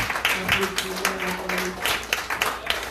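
A church congregation at a women's revival service applauds the preacher, uneven rhythmic clapping mixed with a voice talking and a faint sustained musical tone underneath.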